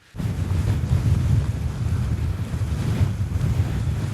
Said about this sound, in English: Jeepers, it is windy.